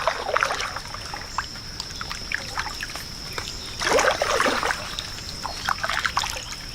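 Paddle strokes from a kayak on Blue Marsh Lake drip and splash in an uneven rhythm, with one louder swirl of water midway. A steady high insect-like whine runs under the close, fairly quiet strokes.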